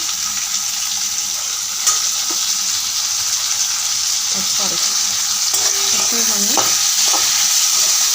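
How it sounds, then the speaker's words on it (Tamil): Prawns frying with onions in oil for prawn malai curry hiss in a loud, continuous sizzle, broken now and then by a spoon scraping and knocking against the pan nearby. "நல்லா ஃப்ரை பண்ணணும்"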